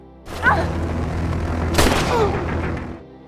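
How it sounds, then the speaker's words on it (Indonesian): Several sharp gunshots in an action film crack in quick succession over a tense, rumbling background, with one especially loud blast in the middle. "tangan kanan Patrick langsung menembak Nancy lalu dibalas dengan tembakan Zara."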